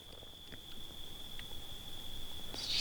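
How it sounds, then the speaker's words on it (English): A single steady, high insect trill from crickets at night in a remote coastal Maine bear-hunting camp, continuous and moderately faint over quiet background hiss. "All you can hear right now is just the crickets."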